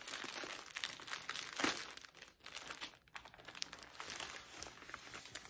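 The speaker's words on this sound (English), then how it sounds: "it seems such a shame to rip the envelope" A paper envelope is torn open close by, giving a stretch of crinkling, ripping paper noise with a sharper tear in the middle, quiet and without any speech.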